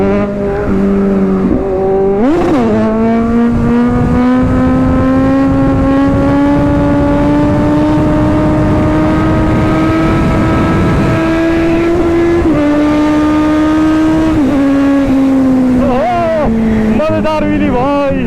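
A superbike's engine roars loudly and continuously during a high-speed wheelie, its pitch climbing steadily as it pulls, then dipping and surging with short rev changes near the end.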